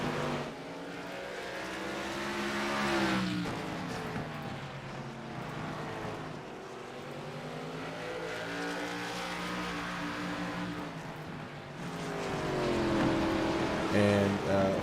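Race cars lap the track at an IROC race at Southern National Motorsports Park, engines droning and rising and falling in pitch as they pass, under an announcer's commentary.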